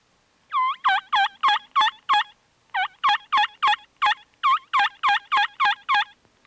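A hunter's mouth call imitates a wild turkey in Michigan, giving about sixteen sharp, evenly spaced yelps in two quick runs, clear and close with no talking.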